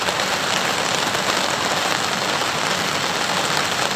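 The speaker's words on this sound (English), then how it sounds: "Still raining hard" Heavy rain pours steadily on a riverside camp along the upper Pitt River, a dense, continuous hiss that stays loud and even throughout with no voices.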